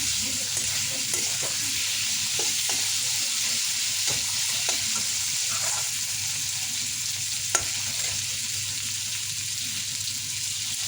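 Gravy poured over masala frying in oil for malai kofta sets off a steady sizzle with stirring scrapes throughout, fairly quiet and even, with no talk.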